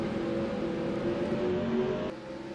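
Race cars roll off at the green flag start at Talladega in a steady engine drone with faint tonal whine, then a brief drop in level near the end, no voices.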